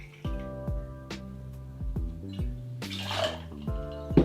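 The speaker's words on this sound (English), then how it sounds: "The first ingredient to go in, guys, is a 50ml or just short of 2 ounces of that bourbon" Knob Creek bourbon, about 50 ml, poured into a cocktail shaker over ice for a winter whiskey sour, with liquid trickling and splashing, ice cubes knocking and clinking in sharp repeated hits, close up and with no one talking.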